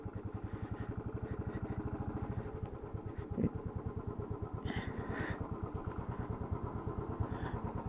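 A motorcycle idles near the Tiger Hill viewpoint in Darjeeling, its engine putting out a steady, fast, even putter for the whole stretch, close and fairly quiet, with a few faint clinks around it.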